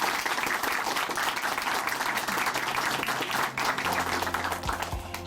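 Loud, dense applause from a church congregation at Chuncheon Hanmaum Church, sustained and even throughout, with a low sustained musical tone entering near the end.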